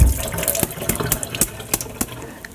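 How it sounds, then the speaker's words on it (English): A metal strainer gets a quick rinse under running tap water at a kitchen sink while almond milk is made, a steady splashing stream with scattered clinks and knocks close by. "don't contaminate your strainer, you're going to use it again. So I'm just going to give it a quick rinse."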